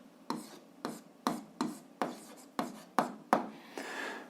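Pen writing on paper during a Ukrainian 7th-grade algebra exercise, a series of about eight short, crisp scratching strokes in a steady rhythm, close and quiet with no talk.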